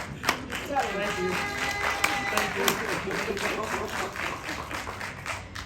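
A town hall audience gives a round of applause, dense overlapping hand claps from a crowd in a room, steady and moderately loud for several seconds with voices mixed in.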